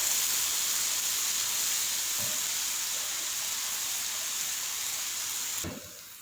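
Ground onion paste fries steadily in a pan for mutton kaleji, giving a loud, even sizzling hiss close by that eases slightly near the end, where a soft knock is heard.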